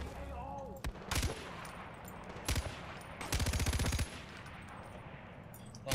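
Light machine gun fire in Far Cry 4 comes in several short bursts followed by one longer rapid rattling volley, loud and close over a low game ambience.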